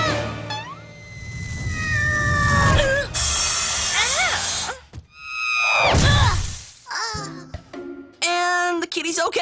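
A cartoon cat meows and yowls several times in a row, loud and close, mixed with cartoon sound effects and bursts of speech.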